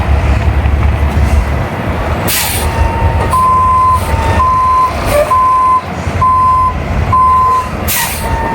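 A brand new 2025 Volvo VNL 760 truck idles loudly up close, its engine rumbling beneath a regular series of reversing beeps, with sharp bursts of air-brake hiss.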